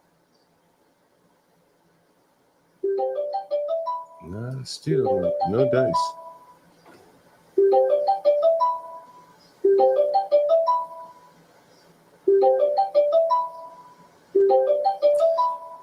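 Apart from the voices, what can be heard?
ringing heard in the background of the stream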